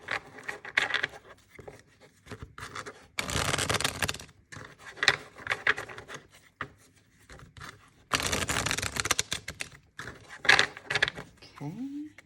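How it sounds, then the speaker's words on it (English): Quick shuffle of a 1909 RWS Sawyer's Redux tarot deck, several bursts of riffling and card rustling separated by short pauses, close by. "So let me just give this a quick shuffle."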